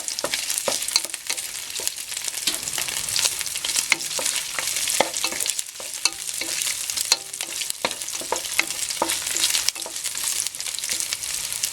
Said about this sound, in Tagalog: Prituhin natin dito sa cooking oil. Medyo ipa-fry lang natin ng konti.